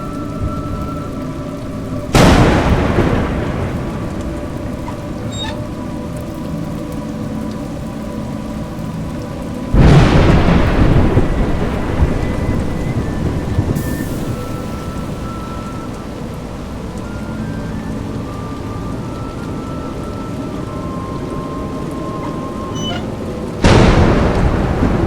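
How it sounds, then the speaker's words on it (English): Steady rain pours in the video game A Juggler's Tale, with three heavy thunder cracks striking at intervals over the constant hiss of falling water. "It's raining."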